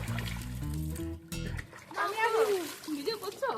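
Water splashing in a swimming pool, with a burst of splashes near the start and then a voice and other talk over the remaining sound.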